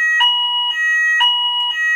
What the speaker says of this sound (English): the fire alarm just interrupted me